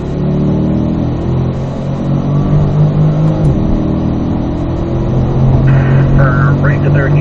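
A Corvette on a track circuit pulling hard in fourth gear, its engine a loud, close, steady rising drone with a brief dip midway before climbing again.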